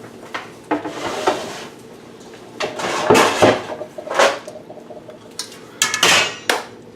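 A Betty Crocker pan is pulled out of a kitchen cupboard, giving a series of metallic clanks, knocks and scrapes of cookware and door, moderately loud and close with no talking.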